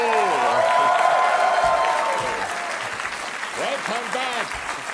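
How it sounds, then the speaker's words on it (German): A German late-night TV studio audience claps steadily and loudly, with cheering voices over the applause that eases slightly toward the end. "Ein Hauptprogrammsapplaus"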